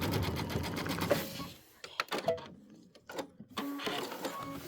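An embroidery machine stitches in the ditch, giving fast, steady mechanical chatter that runs loud and close. The sound breaks off into brief pauses and then resumes.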